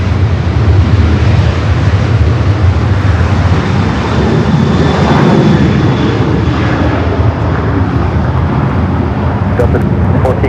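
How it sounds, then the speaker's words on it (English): A jet airliner takes off from the south side runway at LAX, a loud sustained engine roar that fills the whole stretch, with radio chatter faintly underneath. "About to take off there on the south side."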